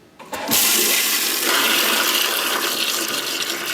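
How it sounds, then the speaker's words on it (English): A low-flush toilet that uses one gallon and sprays water upward flushes with a sudden loud rushing gush of water. The roar starts within the first second, then stays steady and close for several seconds. "this is a special low flush toilet which sprays up at you"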